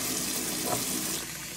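Tap water runs into a pot for boiling ramen noodles, a steady, close, rushing pour that lasts a second or two with no talking.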